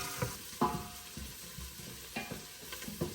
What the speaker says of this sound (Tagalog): Igigisa natin yung ating ricados.